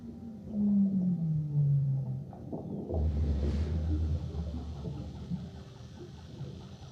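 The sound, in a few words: Weddell seal underwater calls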